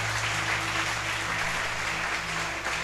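Steady applause from a church congregation during a Portuguese-language evangelical worship service, a continuous dense patter of many hands filling the room at moderate level throughout.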